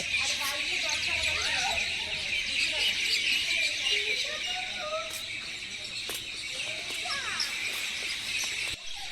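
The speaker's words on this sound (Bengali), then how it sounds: "এত পাখি কিচিরমিচির করে দারুণ লাগে শুনতে" A dense chorus of many birds chirps and twitters in a tree at dusk, a steady loud wash of high calls throughout, with people talking underneath.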